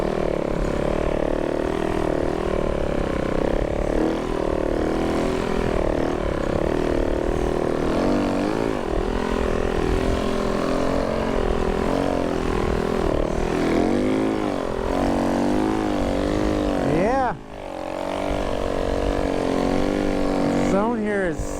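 A Life Flight medical aircraft passes overhead in the countryside, its steady propeller drone wavering in pitch as it goes by, heard beneath someone talking nearby.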